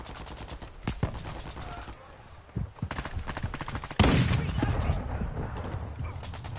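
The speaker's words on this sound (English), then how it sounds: "now they've been shooting at us" Enemy gunfire in the video game Warzone, bursts of rapid automatic shots crackling in uneven clusters, some distant and some closer, with a heavy loud volley toward the end.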